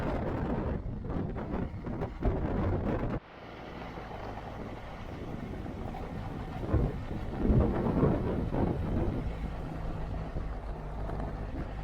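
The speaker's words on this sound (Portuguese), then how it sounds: "Ainda peguei um bom pedaço de chuva" Heavy rain and a thunderstorm in Cochabamba, Bolivia: loud rumbling thunder and dense rainfall at first, then a sudden drop to a steadier, softer downpour with more distant rolls of thunder.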